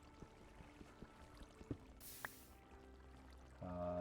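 Flowing water in the Minecraft video game, heard as a short rushing pour-like burst with soft, sparse clicks around it at low volume.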